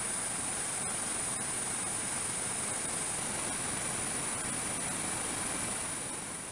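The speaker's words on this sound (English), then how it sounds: "At the pilot's direction, the system will bring the helicopter to a stable hover 50 feet above a selected object." A military helicopter holds a hover, its engine and rotor making a loud, steady broadband roar with a constant high whine, close and unbroken throughout.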